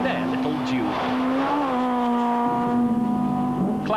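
Toyota Corolla rally cars in Class N2 battle during the 1999 Gauteng Rally, engines droning loudly and shifting pitch as they rev and accelerate close by, with no gaps across the whole stretch.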